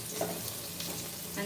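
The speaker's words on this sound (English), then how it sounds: "So we're just frying a little bit" Pork and chicken pieces frying in a pan for caldereta give a steady, close sizzle with soft stirring scrapes, moderately quiet and continuous throughout.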